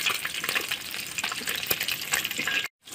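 Small puti fish sizzling in hot oil in a pan, a continuous fizzing crackle with occasional louder pops, ending in a sudden brief silence.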